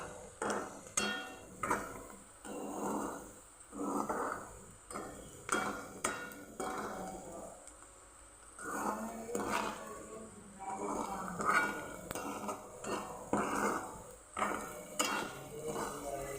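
Spices and turmeric stirred in a frying pan at home, with a metal spoon scraping and clinking against the pan in repeated rhythmic strokes, close and moderately quiet, with short pauses between rounds of stirring.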